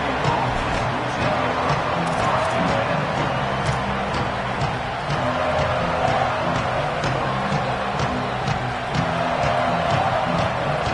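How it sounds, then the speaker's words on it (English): Stadium crowd noise from a college football video game with Oregon playing at Indiana: a dense, continuous roar of cheering fans at constant loudness, without pause. "This crowd ready to make its presence known"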